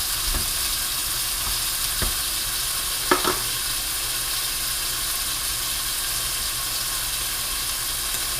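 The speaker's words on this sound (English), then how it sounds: "And I'm going to brown my sausage real quick." Steady hissing sizzle of sausage browning in a hot pan over raised heat, with a few soft clinks of a utensil stirring, constant and close with no talking.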